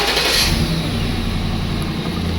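2012 Ford van engine running steadily just after starting, a loud, continuous mid-pitched hum without talk.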